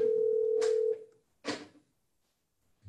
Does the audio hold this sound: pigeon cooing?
no